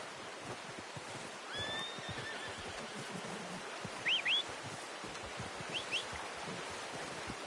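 Horse neighing in short high whinnies at middle distance, with soft hoof clip-clops and outdoor rustle, all fairly quiet and without talk.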